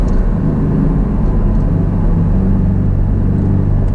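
Porsche 718 Cayman with its four-cylinder engine in sport mode, a steady low engine drone and rumble heard from inside the car, holding constant and loud throughout without talk.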